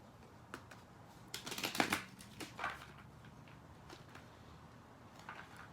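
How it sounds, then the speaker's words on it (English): Tarot cards from a Rider-Waite deck are shuffled in a quick riffle of crisp flicks, a burst of close rustling followed by a few softer taps and slides. "I'm just going to go ahead and shuffle the cards"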